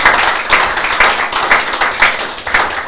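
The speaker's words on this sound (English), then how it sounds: "We can give him a round of applause." An audience applauds after a talk about Major Idris Abdirahman Mohammed, with loud clapping that comes in rhythmic surges about twice per second, steady and close.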